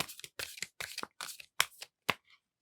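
Tarot cards shuffled and handled in a series of sharp, rapid riffling bursts, close and alone with short pauses between them.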